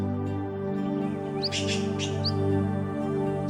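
A few short bird chirps ring out over a steady low hum, brief high tweets repeating twice close by.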